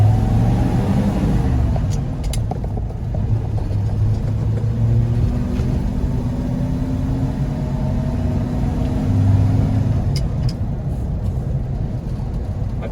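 A 1969 Ford F250 crew cab pickup with a freshly rebuilt, still-breaking-in engine drives along, giving a steady low engine rumble and road noise heard from inside the cab, with no talking.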